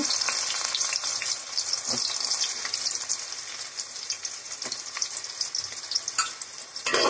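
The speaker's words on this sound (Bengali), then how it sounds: "পেঁয়াজটাকে ভালো করে বাদামি রং করে ভেজে নিতে হবে" Chopped onion frying in hot oil in a pan for pulao, a steady close crackling sizzle running throughout with a few sharper pops and stirring clatters.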